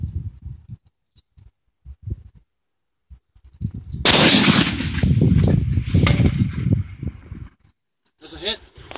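A Nesika Model K rifle with a Krieger barrel firing a 168-grain AMAX round at a 500-yard target: one sharp, loud shot with a rolling echo that follows brief talk, then quiet.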